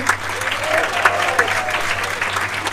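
Crowd applause for a stage show's sound engineer, a dense, sustained patter of clapping with a low steady hum beneath and faint voices mixed in.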